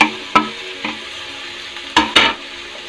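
Spoon stirring sautéed onion and tomato in a hot pan for an egg roast, with a soft steady sizzle and a few sharp scraping knocks against the pan.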